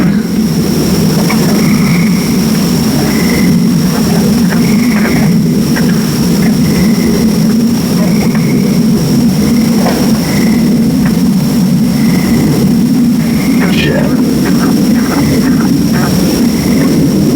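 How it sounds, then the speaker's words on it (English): A steady, loud low roar of a jet passing overhead at night fills the scene, with frogs calling in short repeated bursts and a faint high insect whine throughout. "Hear those frogs going off to that jet flying"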